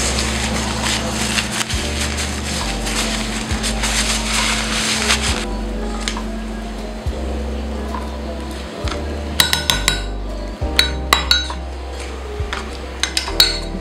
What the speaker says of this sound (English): let me clean the spoon.